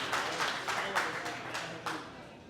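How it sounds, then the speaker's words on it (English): Audience applause for an 11-year-old mushroom farmer, a steady wash of many hands clapping fairly close, with a few louder bursts and no talking over it. "let's give him a round of applause right here"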